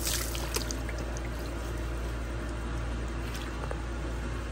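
Cool water is poured over a person to bathe them on a hot day, a continuous close rush and splash that holds steady throughout with no talking.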